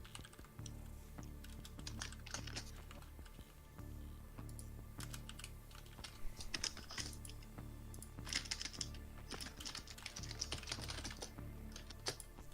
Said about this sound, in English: God, your keyboard is loud.